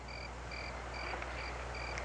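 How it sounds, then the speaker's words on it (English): A frog calling in a steady rhythm, five or six evenly spaced short high trills over low constant background hum. "big frog who croak"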